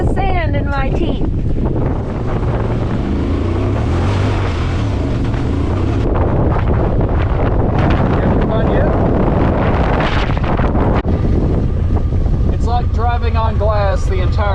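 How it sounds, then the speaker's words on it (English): Strong gusty wind buffets the microphone in a loud, continuous roar with surging gusts at an open sand dune park, with an ATV nearby and a voice speaking briefly at the start and end. "it's been windy, it's been crazy, it's like 36 degrees, 30-mile-an-hour wind with much stronger gusts"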